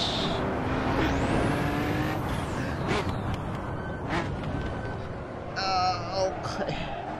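A high-powered race car engine in Assetto Corsa struggles for grip in first gear, roaring and revving loudly throughout with a rising and falling whine and tire squeal near the end.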